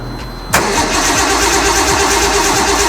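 A Nissan S13 drift car cranks briefly and fires up, then settles into a loud, steady idle close by.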